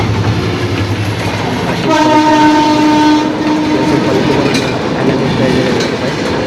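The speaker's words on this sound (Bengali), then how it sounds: "মার্কেটের পাশ দিয়ে এখনই চলে যাবে সভাপতিতে সুন্দরবন এক্সপ্রেস।" The Sundarban Express rolls past a market, loud and close, with a steady rumble and clatter of wheels and a long horn blast.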